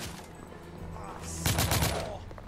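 Gunfire from the video game The Order 1886 empties a magazine in a rapid burst of loud, overlapping shots that arrives after a quieter stretch of game ambience.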